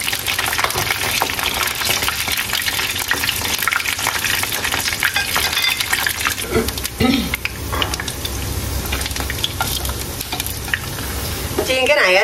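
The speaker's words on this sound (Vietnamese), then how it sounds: "Chiên cái này thì cả nhà để lửa vừa thôi." A store-bought vegetarian hamburger patty fries over medium heat in a pan, giving a steady, loud, close sizzle with occasional stirring and scraping, no talking.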